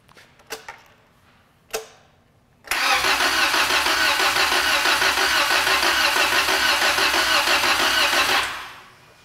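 An engine on a diagnostic test stand, injectors disconnected, cranks steadily for about six seconds without firing, a loud, even rhythmic whirring that stops abruptly, preceded by a few sharp clicks.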